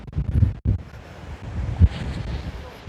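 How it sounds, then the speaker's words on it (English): Strong wind buffets the microphone on a sandy beach at Matagorda, a loud, low, rumbling roar that gusts unevenly, with sand blowing and a faint voice underneath. "we're now getting sandblasted because of the wind, and that wind is really ripping the sand up off the beach"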